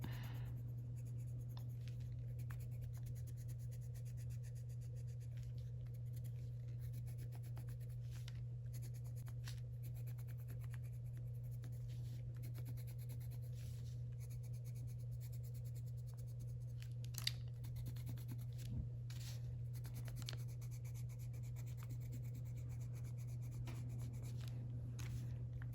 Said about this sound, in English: it's like color pencil or crayon to paper heavily